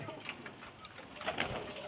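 Pigeons, including hen birds, coo softly in a loft or coop, low murmuring calls repeating faintly over a hissy background, with a slightly louder coo near the end.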